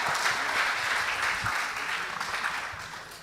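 An audience at a school debate competition claps steadily for the winning team, a dense wash of applause that fades slightly toward the end.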